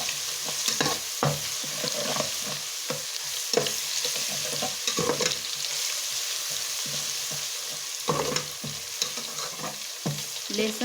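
A teaspoon of minced garlic fries in a pan for matar pulao, sizzling steadily while a spoon stirs and scrapes it in repeated close strokes.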